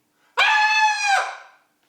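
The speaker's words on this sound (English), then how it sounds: "Suddenly, the ghost heard a scream." A single loud, high-pitched scream used as a sound effect in a Halloween ghost story, rising sharply, holding for about a second, then trailing off into silence.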